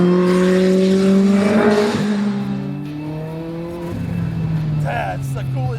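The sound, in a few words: Lotus race car engine revving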